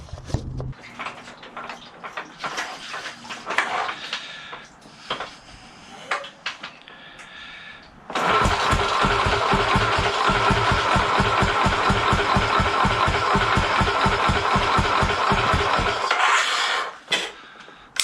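A Royal Enfield motorcycle with a leaking fuel line: first some clattering and handling noises, then the engine catches about halfway through and idles loudly and steadily with an even, rapid thumping pulse before it shuts off.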